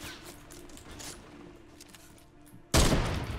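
A loud, sharp sniper rifle shot in the Fortnite battle royale game, a single broadband blast cutting in near the end after quieter in-game ambience and faint gunfire, ringing on to the close.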